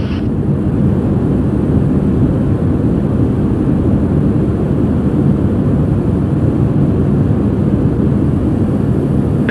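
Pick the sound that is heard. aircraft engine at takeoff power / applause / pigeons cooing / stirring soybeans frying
aircraft engine at takeoff power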